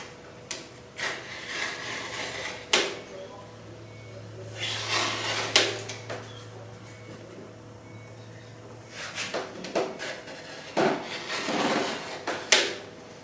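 Aluminium being scoured by hand on an XSR motorcycle tower project, giving bursts of rough rasping scrubbing strokes at close range separated by quieter pauses, with a low steady hum running beneath.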